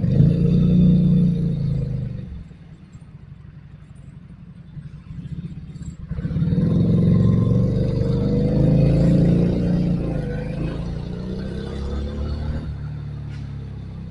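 A Kiwi SCR 250V motorcycle with a 75-degree V-twin engine rumbles loudly and close by, dropping to a lower idle-like drone before swelling again into a strong, throaty run.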